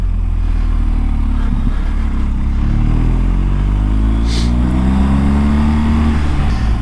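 Motorcycle on Trailmax Mission tires rides at speed with a loud, steady engine drone and rising and falling gear-change tones, plus wind and road rumble throughout.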